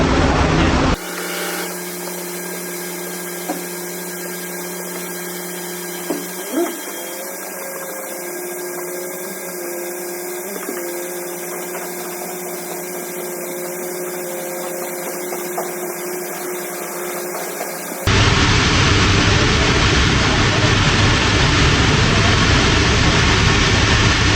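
A loud, steady motor roar with a constant humming tone runs continuously, then shifts to a broader, harsher whoosh near the end, like a vacuum cleaner.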